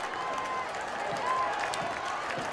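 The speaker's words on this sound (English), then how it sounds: "Crowd on their feet." A packed high school football crowd at Concordia cheers and roars steadily, standing room only as Homestead lines up a two-point try, with an announcer talking over the din.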